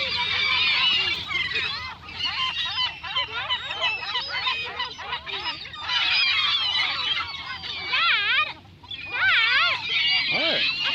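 A noisy flock of geese and ducks gathers for bread, honking and quacking continuously and loudly close by, with a few voices mixed in.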